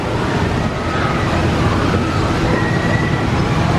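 An amusement park train ride at Waldameer & Water World in Erie, PA, rumbling steadily with continuous wheel-on-track noise and a faint squeal, loud and close throughout without pauses.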